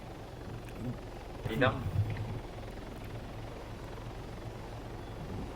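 A helicopter in the Arma 3 game drones steadily at low volume beneath a man's brief question, with a short louder swell of noise partway through.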